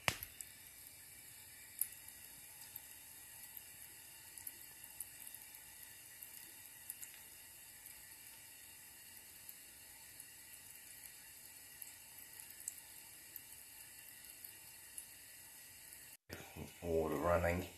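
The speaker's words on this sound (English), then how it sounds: "Water running." A water tap runs steadily with a constant soft hiss, then the flow grows louder and splashier in the last second or so.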